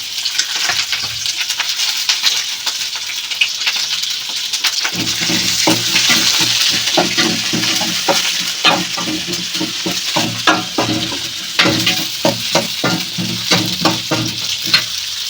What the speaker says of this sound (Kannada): ನೀರಿದ್ರೆ ಚಟಪಟ ಅಂತ ಸೌಂಡ್ ಬರ್ತಾ ಇದೆ